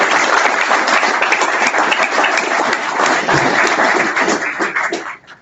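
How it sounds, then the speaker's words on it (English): A room of guests at a Commonwealth defence lunch applauds warmly, dense steady clapping sustained for about five seconds before tapering off at the end. "And I'd like to thank him with a round of applause."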